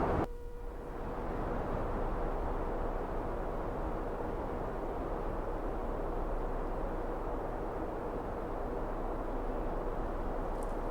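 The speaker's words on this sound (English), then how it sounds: "That's the sound of 120 mile an hour winds" Strong 120 mph wind on a mountain summit roars continuously at high volume, a dense, steady rushing blast that fills the whole clip with no letup.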